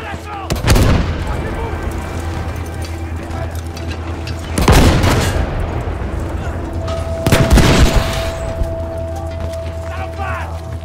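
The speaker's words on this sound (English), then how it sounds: "Now we gotta blow up the tank." Grenades blow up a tank in the Battlefield V video game: three heavy booming blasts at spaced intervals, each rolling off over continuous battle ambience.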